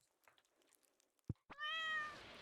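A cat in the Stardew Valley video game gives a single clear, drawn-out meow after a soft click, fairly quiet, with no voices.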